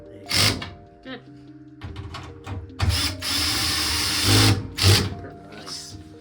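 A power drill set to low torque drives screws during a Maytag dryer teardown, giving several short whirring bursts separated by pauses, close by, with people talking between them.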